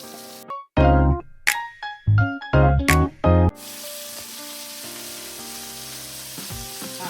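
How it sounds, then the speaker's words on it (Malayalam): Chicken and potatoes fry in masala in a home kitchen. Clattering and spoon knocks come first, then a steady, close sizzle that hisses on alone. "ഈ ഉരുളക്കിഴങ്ങ് ജസ്റ്റ് ഒന്ന് അതിനകത്തോട്ട് ഇട്ട് തന്നെ ഫ്രൈ ചെയ്തെടുക്കാം"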